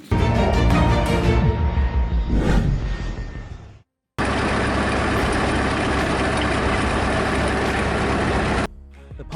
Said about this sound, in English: The Ponce harvester powers through 5 hectares of forest